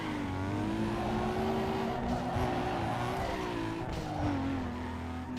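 A tuned car with weight reduction is driven on Street X in Need for Speed Underground 2, its engine holding a steady whine with some wavering pitch and tire noise, loud and continuous with no talk.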